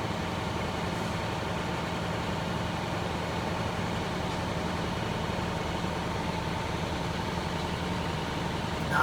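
Truck engine idling steadily to build air brake pressure, a constant low rumble running unchanged throughout with no talk.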